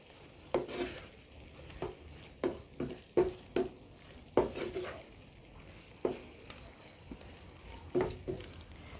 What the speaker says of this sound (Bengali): আবারও সব কিছু ভালো করে নেড়ে নিচ্ছি।